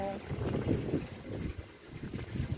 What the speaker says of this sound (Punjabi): ਬਾਹਰ ਕਹਿੰਦੇ ਹਵਾ ਬੜੀ ਚੱਲ ਰਹੀ ਹੈ ਬਾਹਰ ਦਾ ਵੀਊ ਚੈੱਕ ਕਰੋ ਦੇਖੋ ਕਿੰਨੀ ਹਵਾ ਚੱਲ ਰਹੀ ਹੈ ਅੱਜ